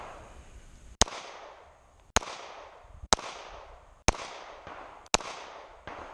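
Five loud, sharp Glock 43 pistol shots ring out at roughly one-second intervals, each followed by a short decaying echo, with no voices between them.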